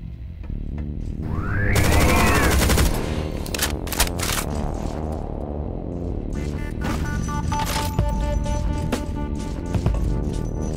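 Rapid chaingun fire in a Project Brutality modded Doom, Final Doom TNT: Evilution, as teleporting chaingunners attack, with loud stuttering bursts, crashes and booms, a rising whoosh early on and continuous battle noise, with no talk.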